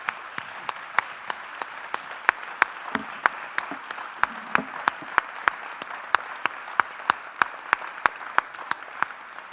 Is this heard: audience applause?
yes